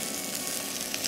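Sliced bread dumplings and onions frying together in a pan, giving a brief, fairly quiet, even hiss of sizzling fat with no voices.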